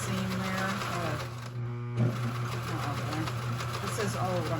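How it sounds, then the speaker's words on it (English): An old antique sewing machine stitching a fabric face mask, a steady close mechanical whir and rapid needle chatter that briefly pauses, with a person talking over it. "to have this sewing machine"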